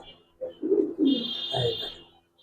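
A female pigeon coos in a short run of soft, throaty, bubbling notes, close and clear, with a faint high hiss behind it.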